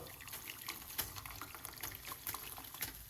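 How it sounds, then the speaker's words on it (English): Hot water poured into a pot holding pineapple peel makes a faint, close trickling and splashing, continuous with small irregular bursts. "Then I'm going to pour some more hot water."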